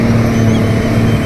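A snow bike engine runs at Sinthan Top in the snow, a loud, close, steady motor drone with a strong low hum that holds constant throughout.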